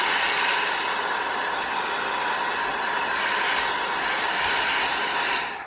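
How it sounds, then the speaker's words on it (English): A handheld heat tool blows steadily to dry ink on a card, a loud, continuous close-up roaring hiss that holds for several seconds before tapering slightly at the end. "just take my heat tool and blow this for a minute"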